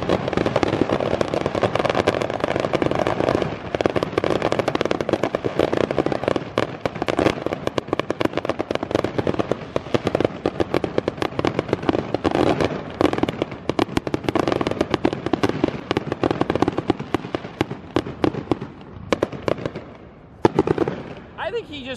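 Fourth of July fireworks set off at a tennis court: rapid crackling bursts and pops for about twenty seconds, loud and nearly continuous, thinning toward the end, with people talking throughout.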